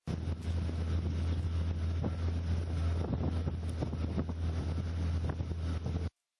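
A boat carries an NDRF flood survey team across floodwater from the Narmada in Madhya Pradesh, a steady low engine drone mixed with strong wind buffeting, continuous and close, cutting off abruptly near the end.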